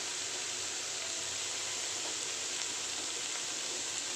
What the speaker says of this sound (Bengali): দিয়ে এখন ভালো করে ভেজে নিচ্ছি